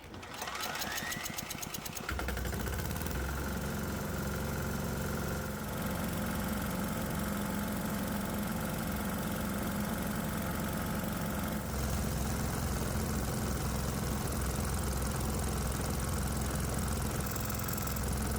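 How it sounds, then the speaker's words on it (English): A 196 cc 3 hp diesel engine runs with its choke closed, a loud, steady, rough chugging drone close up that strains slightly heavier partway through, after a brief rattling start. "see what happens when we choke off the air supply going into the engine"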